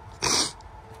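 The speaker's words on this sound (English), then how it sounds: "I apologize if I'm coughing and hacking" A single short, harsh cough bursts out close by, then quiet breathing-room background.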